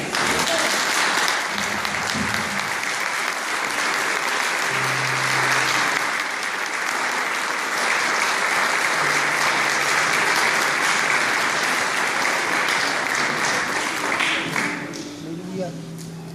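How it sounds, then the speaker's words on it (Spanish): A church congregation applauding after a sermon reading, broad sustained clapping filling the room for many seconds, with some voices and cheers mixed in before it thins out at the end. "Le damos un aplauso a la palabra."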